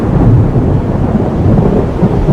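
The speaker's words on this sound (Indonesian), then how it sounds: "Datang nih, ini badai nih." Thunder from a storm rumbles loud and close, a continuous deep roll with rain noise mixed in and no talk.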